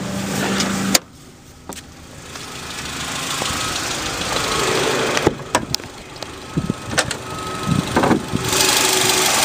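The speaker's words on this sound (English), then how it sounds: "There's the engine." A 1992 Honda Accord engine runs at idle with a steady low rumble, interrupted by several clicks, thumps and handling noises close by.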